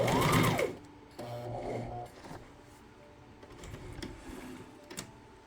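Brief back-and-forth bursts from a sewing machine lock the final stitch on a two-tone flare skirt, the motor whirring close with small mechanical ticks between runs.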